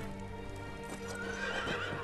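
A horse in the Ghost of Tsushima video game whinnies with a clear neigh over light clip-clop of hooves, close and moderately quiet, with no talking.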